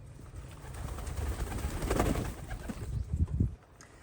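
Pigeons coo softly and nearby in a low, throaty murmur, with a few rustling movements and a couple of louder bursts near the end.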